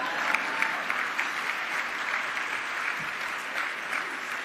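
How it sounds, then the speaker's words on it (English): A room full of teachers and other educators applauds, sustained even clapping that stays fairly faint and distant throughout with only slight swells. "you could clap for yourselves"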